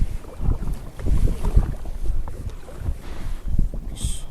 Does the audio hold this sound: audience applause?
no